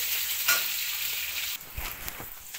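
Small onions fry in hot oil with a continuous close sizzle that dips slightly partway through, followed by a few soft stirring knocks.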